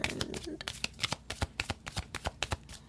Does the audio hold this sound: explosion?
no